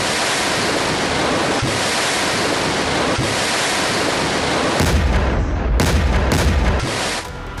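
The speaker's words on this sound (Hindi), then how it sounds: "टॉस-2 थर्मोबैरिक रॉकेट लॉन्चर, आप देखिए रॉकेट लॉन्चर के जरिए खतरनाक थर्मोफ्लेयर सिस्टम" A TOS-2 thermobaric rocket launcher fires in a military strike, with rockets launching one after another. A loud, continuous roaring rush is broken by several abrupt, heavier blasts of deep rumble near the end, with no speech.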